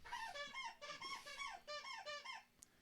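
A dog's squeaky toy squeezed over and over, a run of high, wheezy squeaks in quick bursts, close and clear against a quiet background with no talking.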